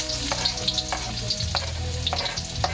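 Garlic frying in a pan, a constant close sizzle broken by sharp, regular scrapes and clicks of stirring, with no voices.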